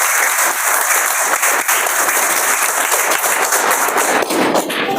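Schoolchildren in a classroom clap together in loud, dense, continuous applause that fills the room for several seconds without pause.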